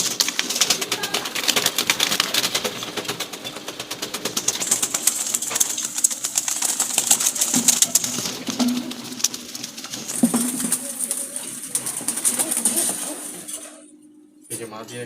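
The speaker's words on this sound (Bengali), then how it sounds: "আর এখানেও আছে কবুতর, যে মাঝে আছে।" Red-eyed Jalali pigeons coo and flutter nearby in a loft, a steady busy mix of soft calls and wingbeats while someone talks over them.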